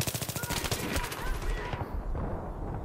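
Rapid automatic gunfire rattles out close and loud in Battlefield 3, a dense burst of rounds lasting over a second. It is followed by sharper scattered shots and rumbling impacts as the fight continues.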